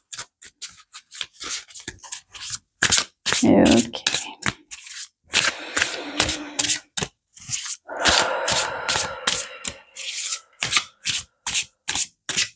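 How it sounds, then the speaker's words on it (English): Crisp, repeated riffling of tarot cards being shuffled in quick bursts, with brief pauses between shuffles and a single short spoken word near the start. "I'm just giving a good shuffle."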